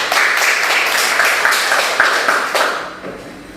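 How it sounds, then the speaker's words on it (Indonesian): Classroom of students clapping for a classmate, a fairly loud, dense burst of many hands that stays steady for a few seconds before tapering off near the end. "Anak kami silakan beri tepuk tangan kepada teman kita."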